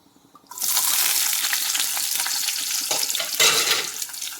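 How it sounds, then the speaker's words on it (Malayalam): A loud, steady sizzle bursts in as chopped shallots and garlic hit hot coconut oil and keep frying vigorously, with a brief stir-like surge near the end. "ഇനി കുറച്ച് ചെറിയുള്ളിയും ഒരു കുടം വെളുത്തുള്ളിയും കഴുകി നുറുക്കിയത് ഇതിലേക്ക് ഇട്ട് കൊടുക്കാം"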